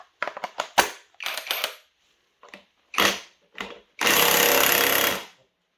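A cheap cordless impact driver struggles on a 2017 Honda Forza scooter drivetrain part, firing in short stuttering bursts and then one longer sustained rattle, loud and close with gaps of silence between.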